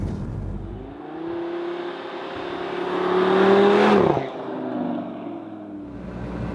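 Audi TT RS with its 400 hp five-cylinder engine, driven hard: a loud, steady drone that climbs in pitch to a peak of revs, then drops off abruptly and settles back to a smooth cruising hum.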